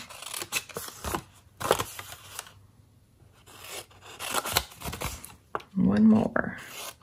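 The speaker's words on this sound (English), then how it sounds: "I like to use my paper snips for this" Close, crisp snips of small scissors cutting paper come in uneven bursts, with a voice speaking at times.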